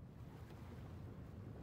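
Ocean waves wash steadily around a boat at sea in Leisure Suit Larry Wet Dreams Don't Dry, a faint continuous rushing of water and wind with no voices.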